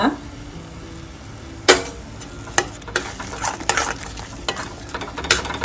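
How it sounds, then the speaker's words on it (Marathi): Spices, coriander powder and garam masala among them, sautéed in a pan for a mushroom paneer dish, with a low sizzle under repeated scraping and clinking stirs that grow busier toward the end. "आणि मसाले परतून घेऊया चांगले"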